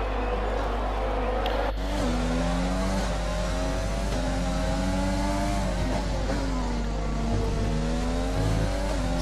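Red Bull Formula 1 car engine in the F1 2020 racing game, a high-pitched onboard engine whine with rising and falling revs through gear changes, steady and loud throughout, with commentary speech over it.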